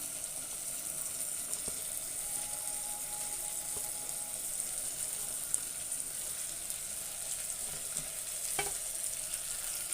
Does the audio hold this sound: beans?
yes